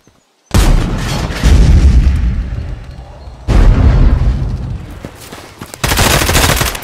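Rapid bursts of gunfire and booming explosions for a toy army men stop-motion battle, loud and sustained in several dense waves separated by short gaps.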